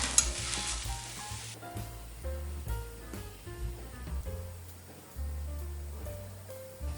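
Mooli (radish) paratha cooking on a hot pan, edges pressed and turned; a steady soft sizzle with scraping and shifting sounds, close up and continuous throughout, no talking.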